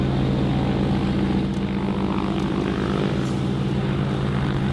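Dakota propeller aircraft flying, a loud steady drone of piston engines and spinning propellers filling the whole stretch without a break.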